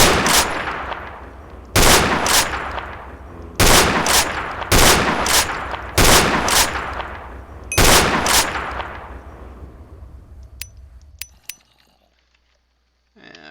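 Six loud, evenly spaced gunshots from an M40 in a Minecraft server game, each sharp crack trailing off in a long decay, followed by faint clicks and metallic reload clinks as the shooting stops.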